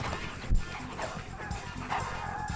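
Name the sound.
hounds barking during drag hunt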